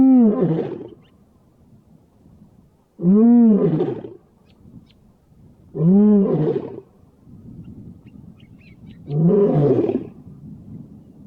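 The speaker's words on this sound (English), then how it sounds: "we heard this lion calling from some distance away" A lion near the Mara river crossings gives four deep, spaced roaring calls, each a rising then falling moan followed by grunts, carrying from a distance over low ambient noise.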